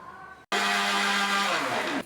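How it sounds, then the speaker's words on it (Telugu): A mixer grinder whirs loudly and suddenly, grinding ginger, cumin, curry leaves, green chillies and turmeric for pesarattu batter, running steadily for about a second and a half before winding down. "దీన్ని మిక్సీలో గ్రైండర్ చేసుకుందాం."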